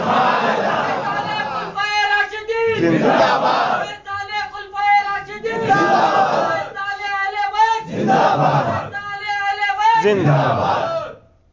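A large crowd at a Milad gathering in Dandeli, Karnataka, shouts religious slogans such as "Subhan Allah" in unison, loud repeated bursts of chanting alternating with a single voice calling out between them.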